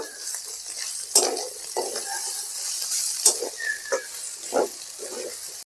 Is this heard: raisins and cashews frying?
yes